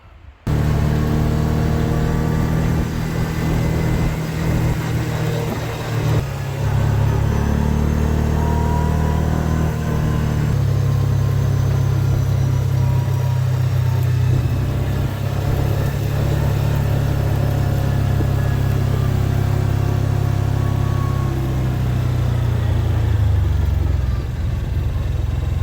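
A truck engine rumbles steadily while driving, a low continuous drone with slight shifts in pitch as the load changes, heard close from inside the cab with no talk.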